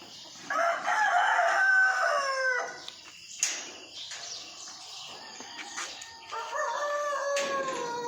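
Chickens in a coop crow and cluck, with one drawn-out rooster-style crow near the start and another later, amid softer clucking and rustling close by.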